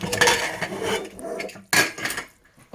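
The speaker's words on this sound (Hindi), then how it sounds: "अब मैं इस प्रेशर कुकर का ढक्कन खोल रही हूँ।" Metal lid of a pressure cooker being opened after cooking potato and paneer curry, with two bright clanks of metal on metal and softer scraping and rattling between them, close and loud.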